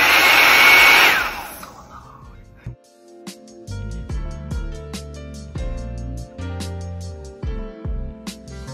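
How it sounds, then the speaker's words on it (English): A hair dryer blasts loudly at close range while blow-drying natural 4C hair, then cuts off after a second or so, and music continues alone. "So I am about to blow dry my hair."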